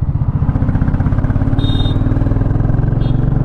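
Royal Enfield Bullet 350 (2024) single-cylinder engine pulling in first gear, a steady loud low thumping rhythm heard up close with no talk.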